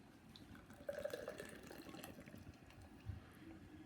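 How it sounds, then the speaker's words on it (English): Irish stout, about 5.1% ABV and nitrogenated, is poured into a glass, giving a soft, continuous liquid splash and gurgle with a slightly louder surge near the middle, close by. "I don't know how smoothly I poured it."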